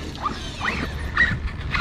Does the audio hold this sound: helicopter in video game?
no